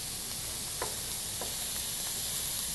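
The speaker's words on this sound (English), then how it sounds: "You want to hand me that spoon right there? I'll stir it." Chicken frying in a pan is stirred with a spoon, a faint low sizzle with a few soft scraping strokes, quiet and without talk.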